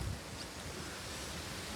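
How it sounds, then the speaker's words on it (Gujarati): Strong wind buffeting the microphone outdoors, a continuous loud low rumble and roar with no pauses. "પવન જોરદાર આવી ગયો મિત્રો વાત ના થાય"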